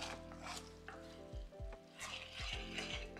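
A spoon works heavy cream into a roux for a jerk bechamel, making soft, quiet, rhythmic scraping strokes against the pan over a faint background simmer.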